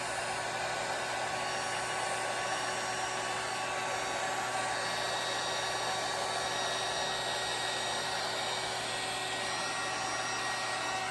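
A hair dryer blows air over alcohol inks and resin on an abstract art piece, making a steady, close, loud whooshing hum that runs unbroken throughout.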